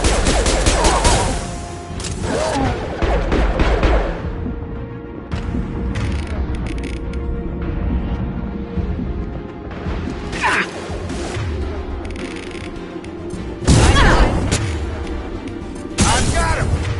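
Heavy gunfire and booming impacts in a sci-fi shooter battle rage continuously throughout, with sharp bursts louder near the start and toward the end, while voiced combat shouts from squadmates sound over the din.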